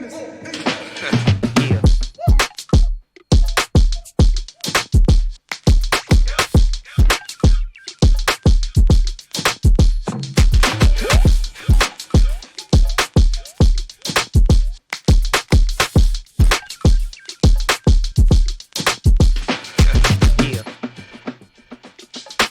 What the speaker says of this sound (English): By themselves, they sound like this.